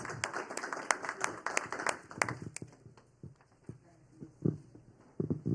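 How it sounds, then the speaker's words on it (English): An audience gives a round of applause for an honored guest at a live event, a scattered, thinning patter of claps that breaks into a few isolated hand claps as it dies down. "Please give her a round of applause"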